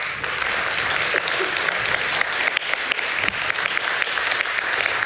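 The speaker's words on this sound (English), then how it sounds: "Please give her a really warm applause" Sustained, loud audience applause at a Polish film festival in Amsterdam for director Agnieszka Holland, a dense steady wash of many hands clapping with no break for the full length.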